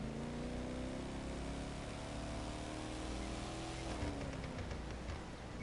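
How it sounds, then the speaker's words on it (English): A car engine in The Crew 2 drones steadily at high revs, a continuous rising and shifting whine with a brief gear-change dip near the end, loud and close with no talk. "This car sounds amazing."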